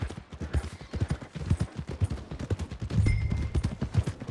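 Horse hooves clip-clop steadily in Red Dead Redemption 2, a brisk rhythmic trot of close, fairly loud hoofbeats with a brief rumble partway through.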